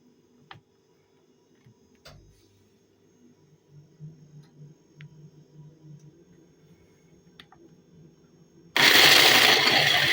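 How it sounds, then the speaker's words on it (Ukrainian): Quiet ticking and rustling give way to a sudden loud, dense roar of a blender grinding walnuts for the last second and a half. "Полущивши горіхи, тепер їх переб'ю на блендері."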